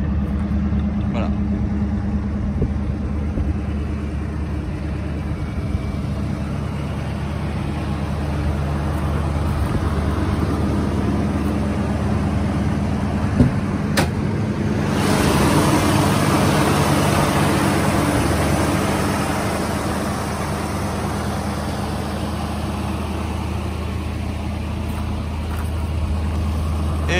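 A 1965 Ford Mustang convertible engine idles with a steady low rumble and a quick electric choke, running evenly throughout with a slight swell partway through as the throttle is touched, and people talk over it.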